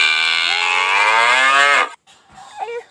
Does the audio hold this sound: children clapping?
no